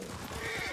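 A horse in Ghost of Tsushima gives a short, close whinny-like call that fills the whole brief moment above a low ambient bed.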